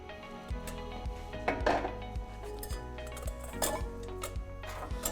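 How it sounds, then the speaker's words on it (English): Cooked potato for pomme purée is pushed through a fine strainer, giving repeated soft scraping and light metallic clinks in an uneven rhythm, close and quiet, with no talking. "This is the extra step of like straining out the potato from a fine strainer."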